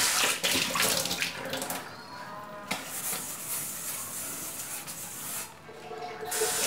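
Running water rinsing a rusty metal item, a steady close splashing spray that continues throughout with brief dips and surges as the item is moved under the stream.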